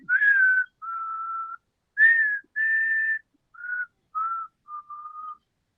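Someone whistles a short melodic tune, a series of clear sustained notes with brief pauses between phrases, close and alone.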